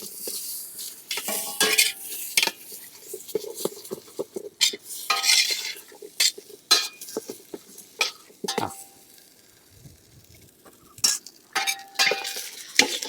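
Small bread pieces lightly roasting in a pan, stirred with a metal utensil: repeated scraping and clinking strokes in uneven bursts over a soft sizzle, close by.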